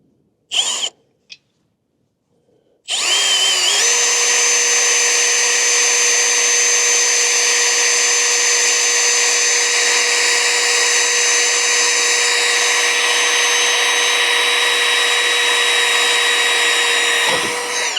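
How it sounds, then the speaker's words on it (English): Power drill pre-drilling holes to fit a Mount-N-Lock mount on an RV, lubricated with WD-40: a few brief blips, then one long steady whine running nearly continuously, loud and close, without talk. "I'm gonna pre-drill them."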